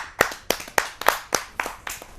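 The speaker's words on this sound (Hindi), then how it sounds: "आप सबकी जोरदार तालियों से" A kavi sammelan audience on stage gives a burst of clapping, about eight distinct, evenly spaced claps, sharp and fairly close, with no talk over them.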